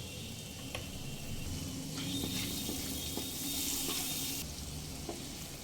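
Chopped tomato and salt sizzle in a pan over a low flame while a Bengali parshe fish curry cooks. The frying is a constant hiss, with light scrapes of stirring and no voices.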